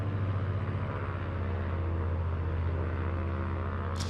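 Cessna 182Q piston engine in flight in Microsoft Flight Simulator, a steady, loud droning hum with a strong low throb, unbroken throughout, heard from inside the cabin.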